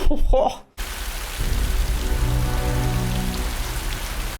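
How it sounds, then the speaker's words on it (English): Heavy rain pours steadily in a film scene from Unbreakable (2000), a dense, even hiss of drops hitting surfaces that starts abruptly after a brief burst of other sound and continues loud throughout. "That's some rain."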